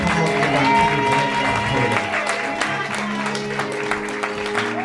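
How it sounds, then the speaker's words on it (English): A church congregation claps in praise at a Black History Month service, with applause blending into sustained organ or keyboard chords and some crowd voices, loud at first and gradually easing. "Come on and give the Lord a hand clap of praise."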